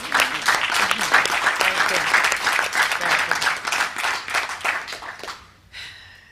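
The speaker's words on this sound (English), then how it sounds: "I think that deserves another round of applause." An audience at a prime minister's press conference applauds in a steady burst of clapping that fades out, followed by a brief quiet tail.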